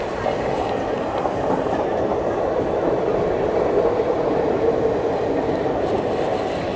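Rajdhani express trains pass each other on a busy railway line near Delhi, a loud, steady rumble of wheels and carriages rolling by continuously and close up.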